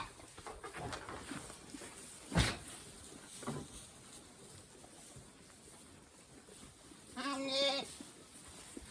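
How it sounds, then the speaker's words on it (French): Ewes and a lamb bleat in a farm setting, with a few scattered calls, one sharp close bleat and a longer wavering bleat near the end, amid faint background noise. "voilà, regardez les brebis."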